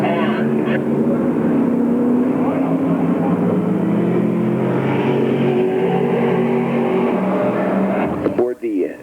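Sportsman race cars roar around the Orange County dirt track speedway in 1995, a loud continuous engine drone from a pack of cars at speed that fades toward the end.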